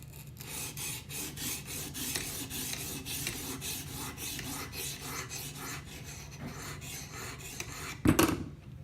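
A knife edge is drawn repeatedly across a sharpening stone clamped in a guided sharpener, giving a steady close rasping scrape in regular strokes, ending with a brief louder clatter.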